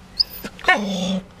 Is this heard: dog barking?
yes